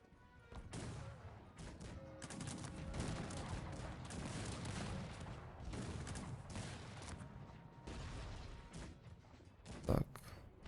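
Massed musket volleys and cannon fire from a Cossacks 3 real-time strategy battle with howitzers, a dense continuous crackle and rumble with one louder boom near the end.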